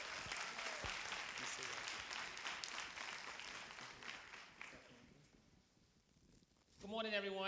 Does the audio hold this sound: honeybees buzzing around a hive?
no